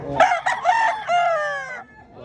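A rooster at a chicken expo in Consolacion, Cebu lets out a loud, close crow in several stretched segments, the last note held long before fading, with faint background chatter underneath.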